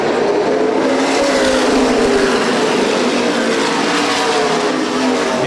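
Race cars of the CRA Super Series roar off together at the green flag at Winchester Speedway, a loud, dense pack of engines rising in pitch as they accelerate, with faint tire noise and no voices.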